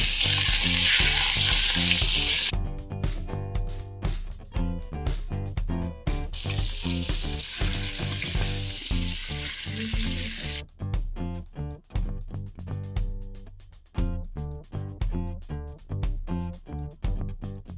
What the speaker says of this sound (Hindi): चपली कबाब फ्राई हो रहे हैं और जबरदस्त फ्राई हो रहे हैं।